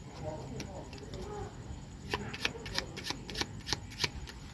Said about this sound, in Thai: จากนั้นสับไพ่นะครับจำนวนหนึ่ง